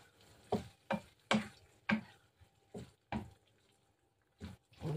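A spoon scrapes and stirs fried eggplant in a pan, about nine distinct strokes in a fairly even rhythm, close and moderately soft with a faint sizzle underneath.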